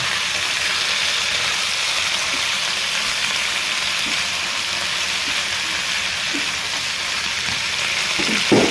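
Steady, dense sizzle of vegetables frying in a pan, a continuous hiss of hot oil that stays even throughout, with a few faint scrapes near the end.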